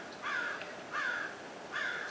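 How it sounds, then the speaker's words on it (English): Crow cawing three times at an even pace, each caw harsh and fairly clear though not very loud, with no talk over it. "Hello, Crow, what do you know?"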